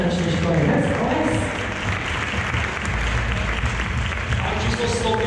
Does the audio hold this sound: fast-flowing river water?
no